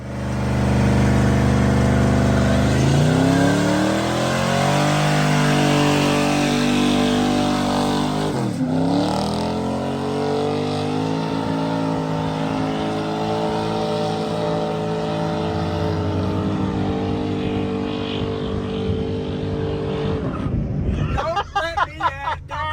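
A 1977 Chevy C10 engine cranks, catches and revs loudly, the pitch climbing and falling through repeated throttle blips before settling into a rough idle, then sputtering and popping near the end; voices talk faintly underneath.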